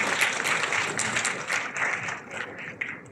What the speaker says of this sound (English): May I request a round of applause for all your teachers.